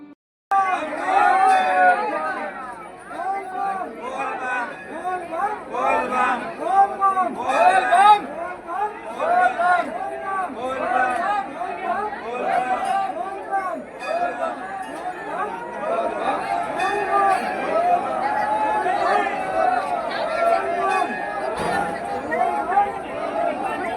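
A large crowd of Kanwar pilgrims, men, women and children, at the Galteshwar Mahadev temple, producing continuous loud chatter and babble of many voices throughout, with occasional louder calls rising above the hubbub.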